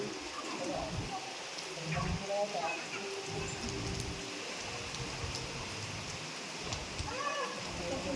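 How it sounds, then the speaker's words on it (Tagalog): Rain falls steadily at a Tagaytay hotel beside a heated pool, a soft constant patter with scattered drops. Faint voices murmur under the shower. "umuulan"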